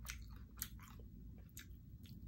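Close, moist chewing and crunching of a chicken tlayuda during a mukbang, with several quick bites and mouth sounds in an irregular rhythm, fairly quiet with no talking.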